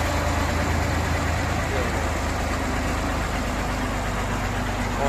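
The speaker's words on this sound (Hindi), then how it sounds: "ट्रैक्टर को चालू कर दिया है" A tractor engine idles steadily throughout, a continuous low rumble with a faint knocking beat and broadband noise, close and fairly loud.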